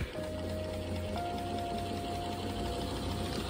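Prototype heat recovery ventilation unit whose pulley-driven shaft spins faster, giving a steady mechanical whir with a tone that steps upward in pitch, faint and continuous with no talk.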